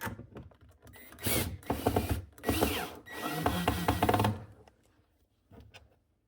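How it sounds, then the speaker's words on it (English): A cordless drill drives small screws into a painted kitchen cabinet door hinge, with several short bursts of motor whir separated by pauses and a final brief spin, close and fairly loud. "Do recommend cordless drill or cordless screwdriver just to get them in there faster."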